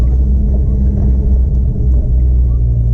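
A low, steady old car engine rumble drones throughout while driving, deep and heavy with slight fluctuations, loud and close; the ignition points are worn and due for replacement.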